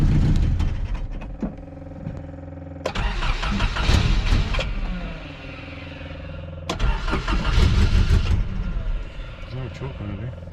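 A Datsun car engine starts with starter cranking, then catches and runs, revving up twice in loud bursts between rougher idling. Engine noise is close and strong, and people talk over it.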